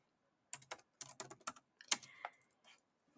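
Keys on a computer keyboard are typed in a short burst of separate clicks, with a few quick clusters of taps and brief pauses between them, close and clear with no talking.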